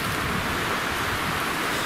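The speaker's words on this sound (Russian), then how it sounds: "Сейчас у нас дождь начинается со снегом вроде." Rain mixed with snow falling outdoors on a windy, cold day, a dense, even hiss of steady precipitation that holds without a break.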